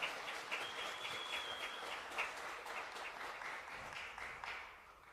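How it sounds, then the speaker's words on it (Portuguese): A church congregation applauds steadily, a dense wash of clapping close and continuous for several seconds, with a faint high tone sustained briefly in the background. "Dê uma salva de palmas"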